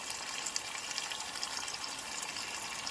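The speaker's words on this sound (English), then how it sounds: "I'm going to add about 1 cup to 2 cups of water" Water poured into a pot holding curry-powdered chicken, a steady close splashing gush lasting a few seconds with no talking over it.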